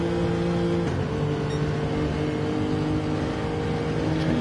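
BMW race car engine in a racing video game, a steady loud drone with harmonic tones that shift pitch, sounding alone without talk.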